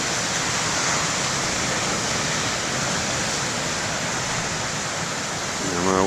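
Steady broadband roar of ocean surf at the main lighthouse beach, continuous and fairly loud with no distinct breaks, swelling slightly at the very end.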